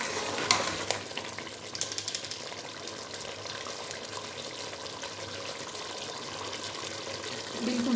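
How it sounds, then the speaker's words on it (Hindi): Chicken frying in masala in a karahi, a steady broadband sizzle running throughout at moderate level, with a few louder stirring clatters near the start and no talking. "तो इसे अच्छे से मसाले में भूनूँगी।"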